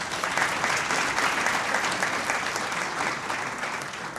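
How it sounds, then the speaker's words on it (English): An audience at a banknote and coinage launch ceremony applauds, a dense, even wash of many hands clapping steadily for the whole stretch with no voices over it. "Another round of applause,"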